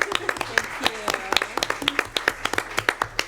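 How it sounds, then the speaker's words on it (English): A short round of applause at a board of trustees information session, a few people clapping in sparse, distinct claps close by, with voices talking over it. "I think she deserves a round of applause"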